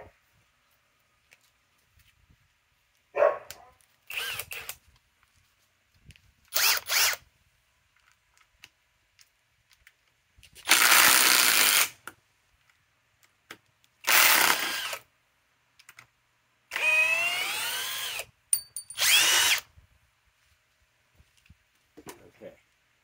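A Hercules cordless drill runs in reverse to back out 4-inch timber lock screws. Several loud whirring bursts of one to two seconds each are separated by quiet pauses, some rising or falling in pitch as the screws release.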